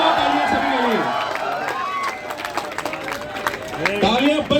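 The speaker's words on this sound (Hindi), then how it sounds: "जोरदार ताली के साथ हम स्वागत करेंगे आज हमारे जो गेस्ट हैं टेंसर टॉक के" A live audience at a meet-up event in Kota claps and cheers to welcome guests, dense sustained applause with whoops and shouts throughout.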